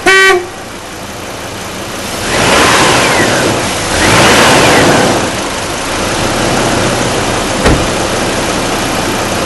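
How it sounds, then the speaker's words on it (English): A Hummer H3 idling, then revved twice with light throttle in short rising swells, followed by a steady idle and a brief click near the end, all close and fairly loud with no voices. "I'll give it a little bit of gas, hit the horn"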